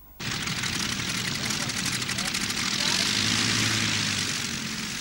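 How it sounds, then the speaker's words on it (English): Junkers transport planes drone overhead on an airlift of troops from Morocco, propeller engines roaring steadily and loudly after a brief quiet start, swelling slightly midway. "a full squadron of Junkers transport planes to airlift the Spanish Army of Africa from Morocco"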